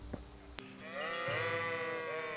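A single sheep bleats in the video game Kingdom Come Deliverance, a drawn-out wavering cry rising after a couple of short knocks, heard clearly and alone.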